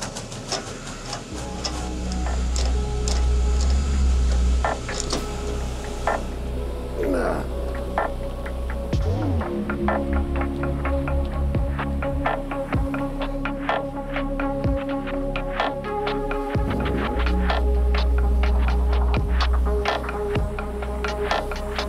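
An IMAX 70mm film projector in a cinema projection booth runs with steady mechanical hum and dense rhythmic clatter, close and loud throughout, with a brief slowing and shift in tone partway through.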